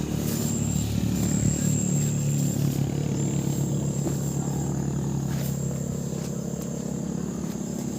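Traffic streams past on a nearby highway, motorcycles and cars droning in a steady, continuous rumble with a low engine hum and a faint high whine throughout, no talking.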